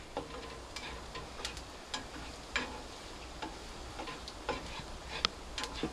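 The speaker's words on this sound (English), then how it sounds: "Now I'm going to go ahead and throw my garlic in there." A big garlic clove fries in oil in a hot pan, with a soft steady sizzle broken by scattered sharp crackles and ticks of spattering fat, close and moderately quiet.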